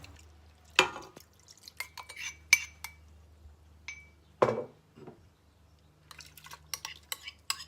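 A spoon stirring a mushroom and red wine sauce in a pan, scattered clinks and scrapes of metal on cookware at an irregular pace, close and fairly quiet with no talk.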